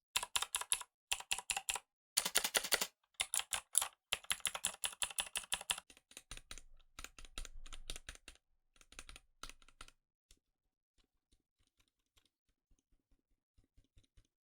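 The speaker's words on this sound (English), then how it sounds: "I'm going to click on the different keys I have and, well, on the different keyboards as well" Keys clicked on several mechanical keyboards, a Razer BlackWidow, a Gamma K with default red switches and another set of switches: loud, close, rapid bursts of clacking strokes in separate runs, thinning into scattered single taps before quiet.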